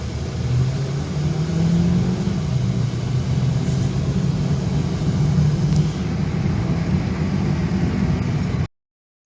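A Honda City with a 1300cc automatic engine accelerates, a steady mid-pitched engine drone that climbs gently, heard close and continuous before cutting off abruptly at the end.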